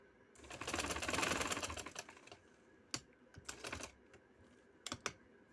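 A sewing machine stitches a neck design into fabric, with a close two-second run of rapid chattering followed by short stop-start bursts and clicks.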